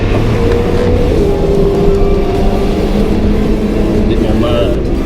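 A Land Rover Defender engine drones steadily while off-roading at a racing event, a close, continuous motor sound with rough road noise, partly under a person talking.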